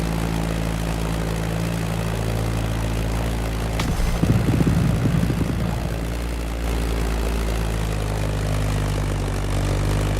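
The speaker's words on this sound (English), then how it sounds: "That Beechcraft Stagger Wing is truly a beautiful piece, isn't it? And a great choice for that flight." A Beechcraft Staggerwing biplane in The Crew Motorfest drones with a steady, loud radial propeller engine hum, a brief rougher throaty surge in the middle before settling back to an even drone.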